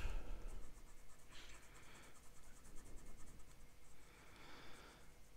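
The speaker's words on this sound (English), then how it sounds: "So we'll do another ink swatch." A fountain pen with a wet Scribo Fill nib scratches an ink swatch onto paper, a soft, close, continuous scritching with faint stroke bursts and no talk.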